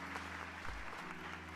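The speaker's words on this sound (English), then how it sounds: "Round of applause." Applause during a live game-development stream comes through as a soft, steady wash of clapping under a low electrical hum, brief and fairly faint.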